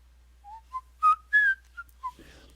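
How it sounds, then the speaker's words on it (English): A short whistled melody of about six clear, piercing notes rising and falling, close and isolated against near silence, played as a tune in the Loom video game. "I've been told I have a very piercing whistle."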